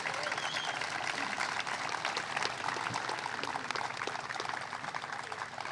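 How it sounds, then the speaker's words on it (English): Audience applause for staff who worked on a community space, a steady dense wash of clapping that stays loud and continuous throughout, with some crowd noise mixed in. "Yes, give them a round of applause."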